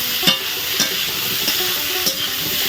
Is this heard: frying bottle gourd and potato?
yes